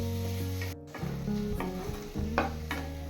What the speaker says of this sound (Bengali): পেঁয়াজের সাথে টমেটো কুচি আর বিটরুট 2 মিনিট ভেজে নেব